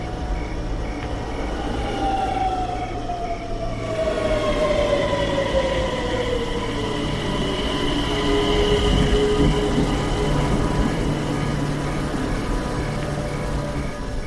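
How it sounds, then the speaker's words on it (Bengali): A train pulls in on rails, its long blaring horn sliding downward in pitch over steady rolling rumble and wheel noise, loud and close, with no voices, used as a horror story sound effect. "একটা তীব্র কর্ণবিদারক হর্নের আওয়াজ ট্রেনটা আসছে"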